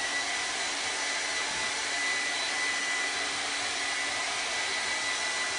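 A hair dryer blows steadily at close range, drying chalk-painted buffalo plaid fabric, its constant airy whoosh holding an even level for several seconds with no talking.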